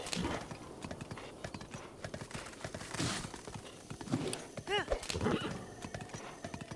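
Horse hooves clip-clop in The Legend of Zelda: Breath of the Wild, a rapid rhythmic pounding with a brief whinny midway, under game ambience and faint talk.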